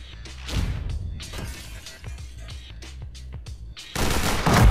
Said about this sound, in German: Gut, dann nehme ich jetzt mal die Pistols.